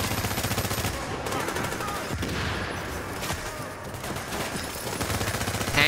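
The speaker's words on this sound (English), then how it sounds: "that's a machine gun" Sustained bursts of machine gun fire in Tom Clancy's The Division video game, loud and dense throughout with overlapping shots and a busy battle backdrop.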